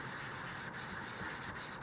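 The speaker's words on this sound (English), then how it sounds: "the rubber cement is right here. You can see it is dry. You just start rubbing it, and the whole entire thing comes off" A fingertip rubs dried rubber cement masking off a handmade card, a steady close scratchy rubbing with quick repeated strokes and no talking.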